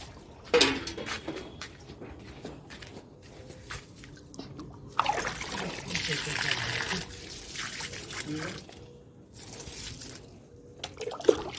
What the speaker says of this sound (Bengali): গাছে জল দেওয়া হচ্ছে এখানে মগটা নিয়ে চলে এসেছিলাম